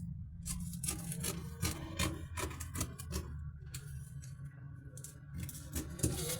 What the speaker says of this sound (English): So you grab your scissors and then you cut.